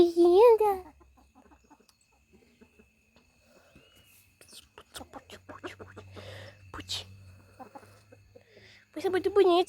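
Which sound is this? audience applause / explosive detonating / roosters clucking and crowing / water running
roosters clucking and crowing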